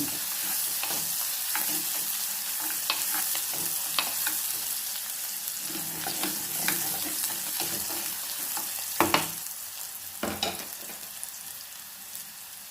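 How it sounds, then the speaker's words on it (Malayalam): Onions and green chillies sauté in a pan after mustard seeds have popped, a continuous soft sizzle broken by scattered clicks and scrapes of stirring, a couple of sharper knocks near the end, with no talking. "കടുക് പൊട്ടി വരുമ്പോൾ അതിലേക്ക് കുറച്ച് സവാള ഇടുന്നത്, 2 പച്ചമുളക്"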